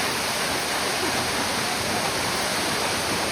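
Water pouring steadily at Soochipara waterfall in Wayanad, a dense, continuous broadband rush that stays loud and even throughout with no talk over it.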